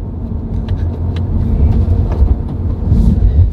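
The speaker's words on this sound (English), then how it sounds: "This is such a fun car." A 2022 Subaru BRZ engine while driving, a close, loud, rumbling drone with road noise that swells slightly toward the end, with no talking.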